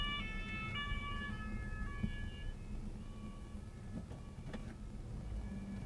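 An emergency vehicle siren wails past a car on a French road, its pitch sliding down as it passes, over steady engine and road rumble heard from inside the car; no one speaks.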